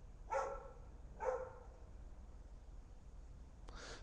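A dog running around outdoors in the late afternoon gives two short barks about a second apart, fairly distant and faint over steady background hiss, with a brief soft noise near the end.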